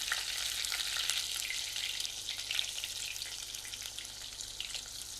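Sliced onions frying in oil in a pan, a steady close sizzle with faint stirring, no talk.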